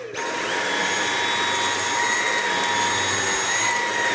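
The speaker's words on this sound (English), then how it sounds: "this Dyson was the most expensive vacuum I've ever bought, but the most worth it because it's wireless" A wireless Dyson vacuum cleaner runs with a loud, steady high-pitched whine and airy roar that starts abruptly and holds level throughout, close by, with no talking.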